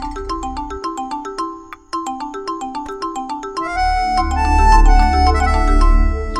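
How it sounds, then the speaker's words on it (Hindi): Phone ringtone ringing late at night in a home: a loud, bright melodic electronic tune that repeats in quick tonal patterns, then swells with a fuller, deeper accompaniment toward the end. "इतनी रात को किसका फोन?"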